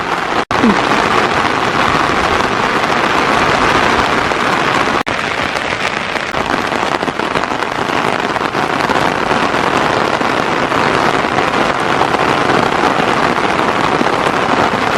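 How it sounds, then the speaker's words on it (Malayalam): Heavy monsoon rain pours down steadily in a loud, unbroken hiss, drumming close by as if on an umbrella overhead. "നല്ല മഴയാണ് കുട ഉള്ളതുകൊണ്ട് കുടൻ്റെ ഉള്ളിലാണ് ഞാൻ നിൽക്കുന്നത്"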